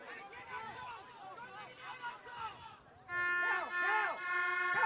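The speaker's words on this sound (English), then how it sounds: "And this is going to go on all night, those vuvuzelas." Spectators' air horns blare repeatedly at a Cove FC versus Modbury Jets football match, overlapping bursts that swell louder after the midpoint, under a commentator's steady talk and crowd hubbub.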